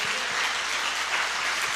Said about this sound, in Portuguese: E Ele merece uma salva de palmas a mais.